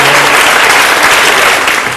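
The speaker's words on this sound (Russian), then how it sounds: "Аплодисменты, Сергей!" Loud, dense applause from a game show studio audience, an unbroken wash of clapping for two seconds.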